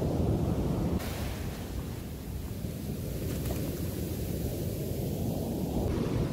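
Ocean surf washing up on a beach where someone is fishing for rockfish, a steady broadband wash of breaking waves with some wind buffeting the microphone, continuous and fairly loud with no talk.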